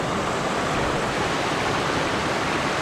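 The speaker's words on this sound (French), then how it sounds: "le bruit de la cascade c'est tellement apaisant, c'est tellement cool à écouter" Small waterfall on a hike in the Jura, a steady, close, broadband rush of falling water that stays even and continuous throughout, with no voices.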